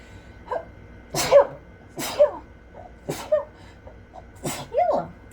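Four sharp sneezes in a row, close and loud, each with a quick intake before it, spaced about a second apart.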